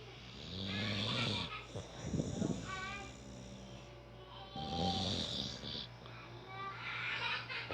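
A female dog snoring quietly nearby, with slow, drawn-out rasping breaths repeating in a steady rhythm.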